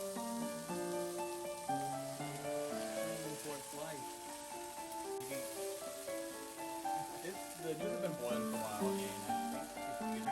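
Spätzle noodles and diced onions fry in a pan with a steady, faint crackling sizzle and occasional stirring scrapes, under continuous background music.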